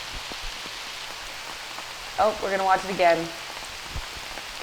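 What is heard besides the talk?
rain falling on a disc golf course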